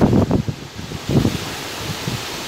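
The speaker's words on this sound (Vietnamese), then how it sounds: "Gió các bạn nghe không?" Strong gusts of wind buffet the microphone outdoors on a cold-season lure fishing trip, coming in rough bursts that rise and fade over a steady airy rush.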